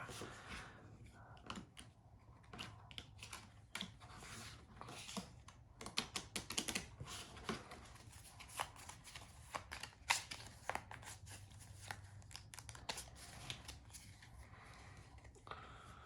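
A deck of pro wrestling promoter game cards is shuffled by hand, producing quiet, close riffling and flicking clicks in uneven bursts, with no one talking over it.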